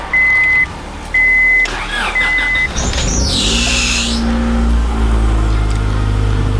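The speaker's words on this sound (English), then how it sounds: "as a result of that, I have this horrendous squeal on startup" A Honda Integra engine cranks after a few warning chimes and starts, and a loose alternator belt gives a loud, high squeal that rises and fades, leaving a steady idle running close by.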